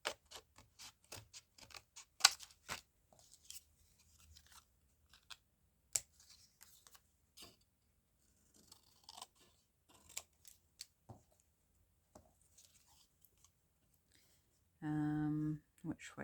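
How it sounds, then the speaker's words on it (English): Scissors snipping through cardstock while making embellishments, a series of crisp separate cuts at an uneven pace, close and fairly quiet, with a short tonal sound near the end. "I'm just going to cut along here."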